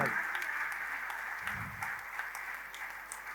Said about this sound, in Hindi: शाहिद भाई, जोरदार तालियां बजनी चाहिए।